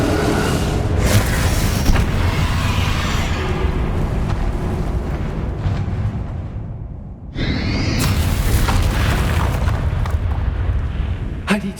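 The Confringo spell exploding in the video game Hogwarts Legacy, with a loud, sustained rumbling blast that cuts out briefly and then returns as a second booming burst with a whooshing edge.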